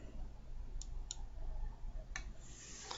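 Computer mouse clicks while working in an Excel chart menu: a few sharp, light clicks, two close together early and a couple more near the end, quiet and close over faint background hiss.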